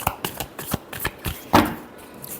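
A deck of tarot cards shuffled by hand in a short run of crisp riffling snaps and taps, close by, ending in one louder flurry, with no talk.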